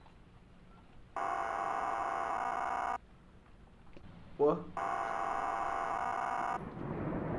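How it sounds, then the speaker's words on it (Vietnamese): A phone vibrates in a horror video game, two long, loud buzzing bursts of about two seconds each separated by a pause, with a brief spoken interjection between them over a low, quiet background. "Tiếng điện thoại rung."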